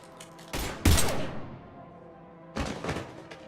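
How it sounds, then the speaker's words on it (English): In the Mass Effect 3 video game, gunfire erupts: a heavy burst of shots with a booming thud, then a short decaying tail and another burst of rapid shots, loud and close with no talk. "Now open fire!"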